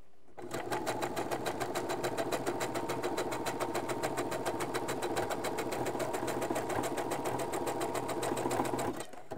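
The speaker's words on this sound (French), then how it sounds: "Et je couds les deux élastiques ensemble sur 1 cm" A sewing machine stitches two elastics together in a rapid, even mechanical chatter that starts after a short pause, runs steadily and close for several seconds, then stops abruptly.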